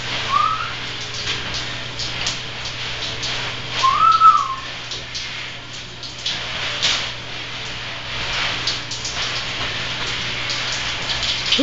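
Steady hiss of shower water spraying on a macaw indoors, continuous and close, with a few short high bird whistles breaking through the spray.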